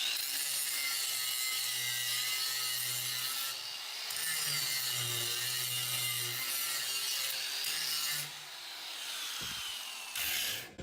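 An angle grinder fitted with a grinding stone works along an edge, giving a steady, close, harsh high-pitched whine with a low motor hum beneath. Its pitch wavers as pressure changes, and it cuts off abruptly near the end.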